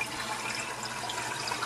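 Water flows steadily through the sump of a reef aquarium, a soft continuous trickling and gurgling wash heard close and quiet, with no talking.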